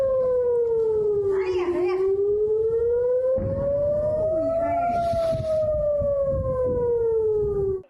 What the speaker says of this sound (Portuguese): Sirenes de aviso tocaram por todo o país.